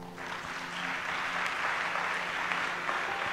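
A church congregation at a worship service applauds in a steady, dense wash of clapping that holds evenly for a few seconds over a faint sustained tone, with no talking.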